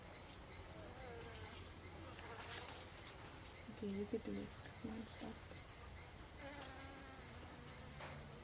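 Honey bees buzz steadily around a beehive in a continuous, fairly quiet drone, with people talking intermittently over it.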